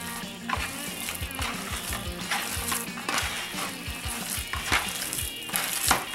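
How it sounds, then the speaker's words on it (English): Wet squelching and stirring of Mexican albondigas meatball mixture being worked together with two beaten eggs, a steady close rhythmic mashing and slapping with no talking. "2 beaten eggs. And we start mixing."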